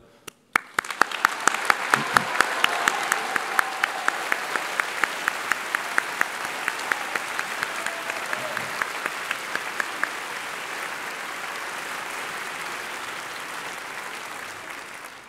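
A graduation ceremony audience at CEU's 20th anniversary commencement breaks into sustained applause for the graduates. Dense, even clapping holds strongly for the whole stretch, with sharp claps standing out at the start.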